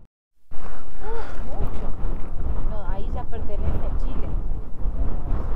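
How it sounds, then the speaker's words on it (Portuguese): Strong, cold wind roars and buffets the microphone while motorcycles ride along Ruta 40, a loud, continuous broadband rush with voices talking over it. "É muito vento gelado"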